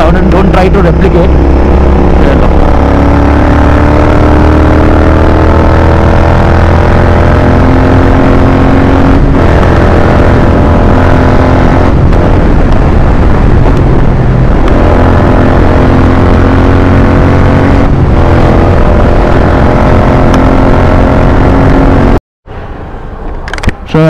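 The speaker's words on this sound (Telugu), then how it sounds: "చిన్న పుల్ చూసాం బైక్ని, ఎంజాయ్ చేయండి sound and don't try to replicate" A Royal Enfield GT650 motorcycle pulls hard up a cable bridge flyover in Hyderabad, its loud, close engine note rising and falling through gear changes, with wind rush. The engine cuts abruptly near the end.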